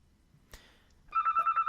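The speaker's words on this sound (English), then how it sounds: "Phone ringing." An old landline telephone rings loudly in a quiet room, its bell sounding in quick, evenly pulsed bursts after a brief knock, with no voices over it.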